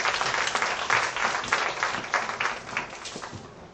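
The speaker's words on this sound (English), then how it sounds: "A big round of applause for all of them." An audience at an annual session gives a round of applause, a close and continuous burst of many hands clapping whose loudness ebbs and swells, fading slightly at the end.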